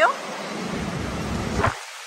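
Rushing water at Niagara Falls roars as a steady broadband wash, loud and continuous, with a faint voice briefly audible at the start.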